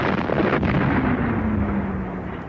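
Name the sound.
World War I artillery barrage explosions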